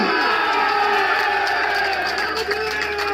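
A large crowd at a political worker convention in Shahdara Town cheers and chants slogans, a dense, continuous roar heard up close with no pauses.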